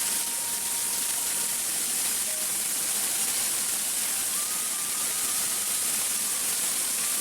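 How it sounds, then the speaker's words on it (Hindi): A waterfall on a mountain trek hisses in a steady, dense roar throughout, close and constant, with a faint thin tone drifting over it. "और झरने के सामने एक और झरना।"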